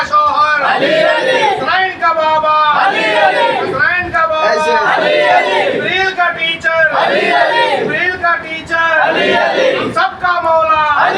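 Large crowd at a Shia majlis on 27 Safar in Kurnool chanting religious slogans in unison, loud and close, with rhythmic collective shouting that rises and falls over about eleven seconds.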